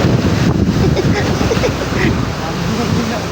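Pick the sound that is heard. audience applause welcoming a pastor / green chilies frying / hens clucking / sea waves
sea waves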